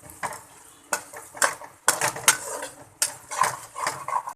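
Metal spoon scraping and clanking in a pan as chicken liver fry with garam masala is stirred, a run of separate close knocks and scrapes at an uneven rhythm, fairly quiet, with no talk.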